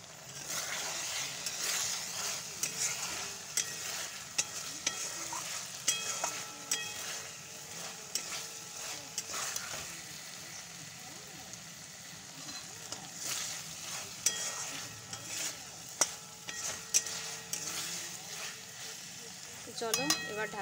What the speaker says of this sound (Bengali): এই যে ঢাকা তুলে নাড়িয়ে নিচ্ছি।